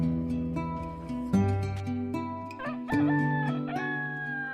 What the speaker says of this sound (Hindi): तभी मुर्गे के बाग देने की आवाज सुनाई देती है